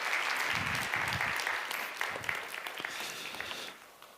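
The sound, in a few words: youth service congregation applauding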